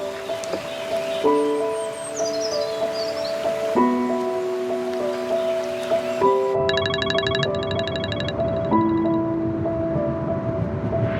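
A mobile phone ringtone plays a repeating melodic pattern of clear tones, moderately loud and close, with a brief rustle near the start and a bright chiming passage partway through.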